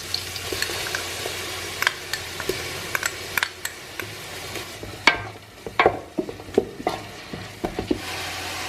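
Garlic paste going into frying onions for Ambur biryani: a bright sizzle flares up, overlaid by frequent sharp scrapes and taps of a spoon stirring in the pan, close and without talk.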